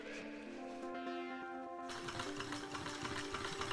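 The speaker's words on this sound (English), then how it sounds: "I sewed a double row of stitches on the top, and then I sewed around the perimeter" Sewing machine stitching backpack pack cloth, a steady close mechanical whir with a tonal hum that shifts into a busier, rattling run partway through.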